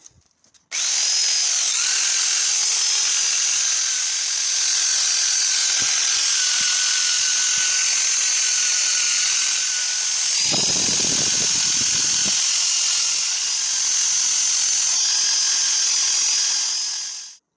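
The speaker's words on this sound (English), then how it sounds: "So I cleaned it off with a brass wire wheel" A brass wire wheel on a power tool grinds corrosion off a part from a Yamaha WR400F dirt bike, giving a loud, steady high whine that holds for about sixteen seconds with a brief rougher patch midway, no speech.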